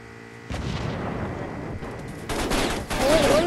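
Bursts of gunfire ring out in the Rules of Survival battle royale game, rapid cracking shots rolling in two loud waves after a brief quiet opening.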